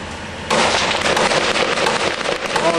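Rapid gunfire crackles in a dense, continuous barrage during a live firefight with a parachute flare overhead, loud and sustained after a sudden onset, with no talk over it.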